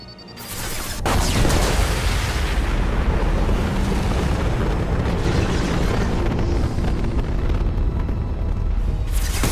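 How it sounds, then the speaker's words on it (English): A massive explosion in the sci-fi game Mass Effect 2 erupts with a sharp crack, then rolls into a long, heavy rumbling roar that stays loud for several seconds before a final sharp burst at the end. "Going to explode."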